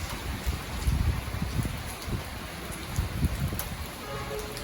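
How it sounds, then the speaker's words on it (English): Steady rain falls outdoors during Tropical Storm Isaias in the Dominican Republic, a dense continuous hiss with low gusty rumbles rising and falling throughout. "It's been raining."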